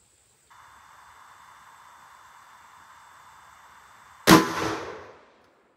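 A single loud gunshot firing a Hornady 158-grain flat point XTP bullet into a gel block, a sharp crack with a short decaying tail following several seconds of steady faint hiss.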